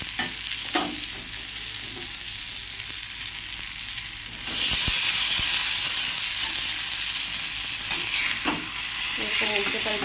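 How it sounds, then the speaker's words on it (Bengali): Vegetables fry in a hot pan with a steady, loud sizzle that swells sharply partway through, broken by a few scraping stirs of a utensil; no one speaks. "এটা খুব সুন্দরভাবে এরকমভাবে ভাজা হয়ে যায়"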